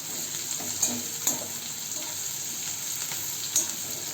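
Ivy gourd (tondli) frying in oil gives a steady, fairly quiet sizzle throughout, with a few soft clicks of stirring and no talking.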